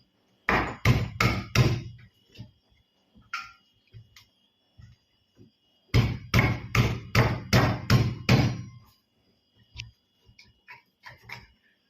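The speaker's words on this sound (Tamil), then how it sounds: "இந்த உரலில் வந்து நம்ம ஒன் ஒன்றும் ரெண்டுமா நெசுக்கிக்க போகிறோம்" Ivy gourds (kovakkai) are lightly crushed in a stone mortar: two clusters of sharp, close thuds, each five or six quick blows, separated by a quiet gap with a few softer knocks and no talking.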